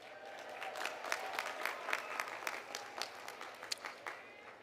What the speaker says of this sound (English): Please join me in giving all of our honors graduates a round of applause